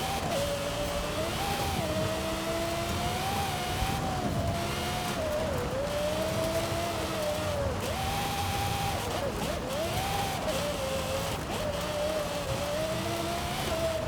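SUV engine in Forza Horizon 5 drones steadily at close range, its pitch rising and dipping with throttle through gear changes, continuous and loud throughout.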